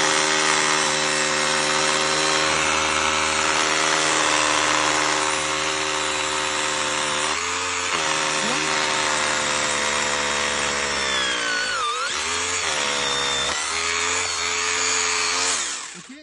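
A rotary hammer drill runs steadily and loudly for about fifteen seconds, its motor tone dipping briefly around the middle as the bit works the material, then cutting off at the end.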